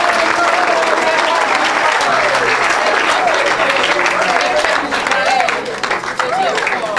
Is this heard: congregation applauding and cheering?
yes